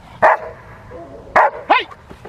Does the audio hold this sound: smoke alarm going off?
no